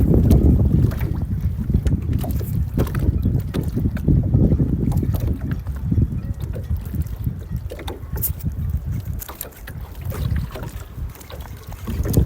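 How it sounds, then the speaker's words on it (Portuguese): Strong gusty wind buffets the microphone while fishing from a kayak on the water, a constant loud low rumble with faint water trickles and no talking. "Então hoje eu vim na teimosia, rapaziada. Ventando pra caramba."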